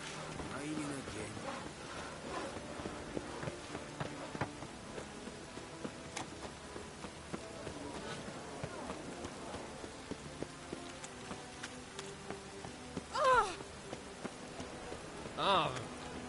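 Steady rain pattering throughout a rainy scene in The Witcher 3 game, a dense even hiss with occasional louder drops and brief bursts near the end, with faint voices underneath.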